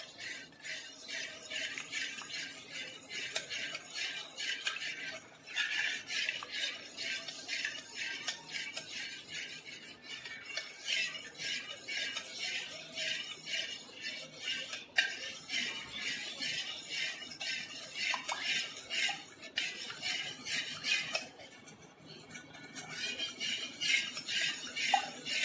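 A spoon clinks and scrapes steadily against a container while a paste of desi cow A2 milk is mixed thoroughly for homemade curd, a continuous rattling stir with no talk.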